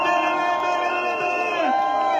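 A large crowd at a political rally in Franceville cheers and shouts continuously for the candidate Brice Clotaire Oligui Nguema, a dense, loud roar of voices and whoops with shifting pitched shouts.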